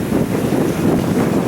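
Steady wind buffeting and rushing water against the hull of a sailboat under sail off Florida's panhandle coast, a continuous loud broadband roar with no voices.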